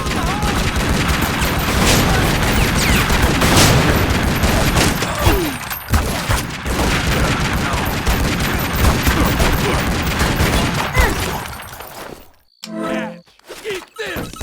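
Rapid gunfire in Resident Evil 4 on the Xbox, dense continuous bursts of shots and impacts for most of the stretch, loud and close, then breaking into a few sparse shots near the end, with a player talking over it.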